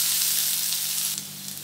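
Potatoes frying with chopped garlic and green chilli in a pan give a steady, bright sizzle as they are stirred, close and continuous with a slight dip near the end.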